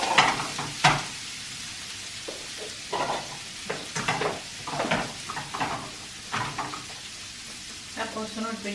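Cabbage, paprika and spring onion are stir-fried in a pan with a soft sizzle, and a utensil scrapes and clatters against the pan in irregular bursts.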